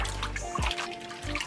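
Shampoo and water poured into a bucket for washing deep wave hair bundles, a soft close trickle and splash with a brief gurgling surge partway through, no talking.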